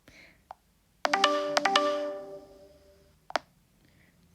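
A Nokia 2.4 phone ringtone resembling the Nokia Lumia tone plays as a few bright, bell-like chiming notes ringing out clearly, with short clicks before and after.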